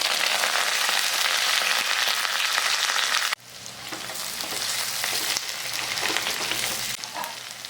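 Mustard seeds, cumin, onions, green chillies and curry leaves fry in hot oil, a loud sizzle that drops sharply partway through, then continues as a softer crackle with occasional stirring.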